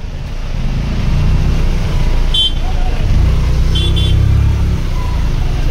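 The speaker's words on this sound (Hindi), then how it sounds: "बहुत ट्रैफिक है भाई, बहुत दिक्कत है यार।" Heavy road traffic on the Kedarnath Yatra route near Gaurikund, with cars and other vehicles idling and rumbling close by, engines rising and falling continuously.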